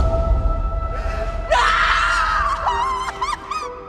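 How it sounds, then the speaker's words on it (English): A single gut-curdling scream, loud and close, rising and wavering for about two seconds and ending in shaky, broken cries over a low rumbling background. "when I heard that first gut-curdling scream"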